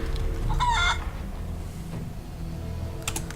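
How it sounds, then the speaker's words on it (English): Video game chicken sounds in Divinity: Original Sin 2 after a polymorph spell turns a foe into a chicken: a loud crowing cluck early on, then quieter game ambience and a brief clucky chirp near the end. "Let's go ahead and try and turn them into a chicken."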